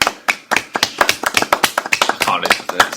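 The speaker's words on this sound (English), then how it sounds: "No, I think applause is Alright." A few people clap in a radio studio, with sharp, close, uneven hand claps in a quick, loose rhythm over about three seconds.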